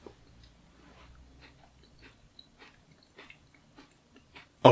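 Someone chews chicken madras curry with crunchy onions, giving soft, close bites and crunches in an irregular rhythm, quiet apart from a sharp knock at the very end.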